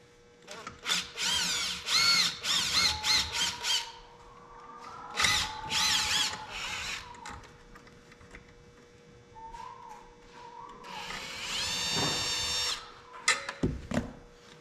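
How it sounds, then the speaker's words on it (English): A power drill whirs in several short bursts, driving a long Torx screw in a Porsche Cayenne, with quieter gaps and faint background noise between runs. "It's a very long screw, so I'm using a drill"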